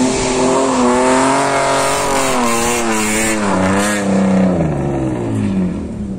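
A BMW drift car, driven by a woman learning to drift, roars loudly and continuously, its engine pitch rising and wavering as the throttle works through a turn, with faint tire noise underneath.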